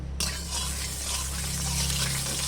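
Dried red chillies, some torn and some whole, frying in oil in a pan, heard as a continuous close sizzle with soft stirring scrapes and a low steady hum beneath.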